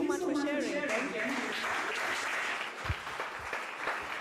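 At a school friendship debate, a voice speaks briefly before a crowd breaks into sustained applause, an even patter of many hands clapping that continues to the end.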